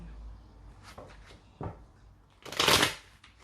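Tarot cards shuffled in a quick, close burst of papery riffling near the end, after a few faint soft handling noises.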